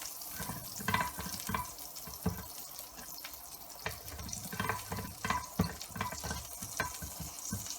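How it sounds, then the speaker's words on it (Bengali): Beef sizzling on a hot tray coated in melted butter, a steady close crackle and hiss with scraping stirs and occasional louder pops, no talking. "সিজলিংয়ের আওয়াজ"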